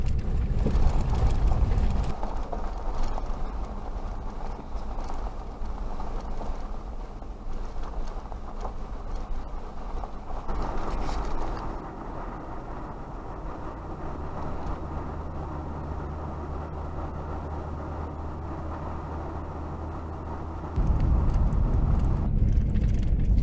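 A Rubicon or 4Runner truck drives along a road near Duncan Bay on the Kentucky side of Land Between the Lakes, a steady low engine and road drone heard from inside that shifts in tone midway, without speech.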